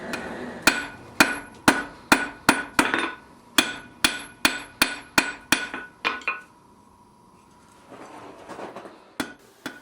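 A blacksmith's hammer rings against hot steel while forging a wall hook, with about fifteen sharp, evenly spaced blows, a short pause, then a few scattered final strikes.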